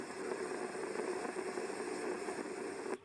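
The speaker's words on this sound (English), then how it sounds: "The low rumble sounds like a generator running in the distance." A steady low hum, like a generator running in the distance, drones on unchanged outside a home in North St. Louis County, with a faint rattling texture and no talk, then drops away abruptly at the end.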